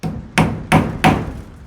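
Three hard, evenly spaced hammer blows drive nails during a home kitchen extension build, each a loud close thud with a quick decay over a quiet background.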